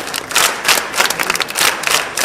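Audience applause at a police officers' ceremony, a brief burst of dense clapping from a crowd in a hall, steady and fairly loud.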